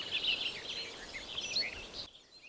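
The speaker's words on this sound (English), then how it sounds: "Nature at its best, just birds everywhere" Several birds chirp and sing at sunrise over Loch Ness, a soft layered chorus of high calls that continues steadily and then drops off sharply near the end.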